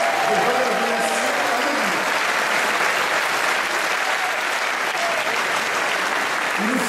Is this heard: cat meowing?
no